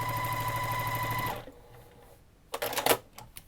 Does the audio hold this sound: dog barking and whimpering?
no